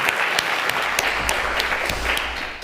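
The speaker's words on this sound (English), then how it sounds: "Maybe we can give them another round of applause." Audience applause for a pair of film producers at a film salon event, a steady, fairly loud roar of many hands clapping, with a few sharper individual claps standing out, easing off slightly toward the end.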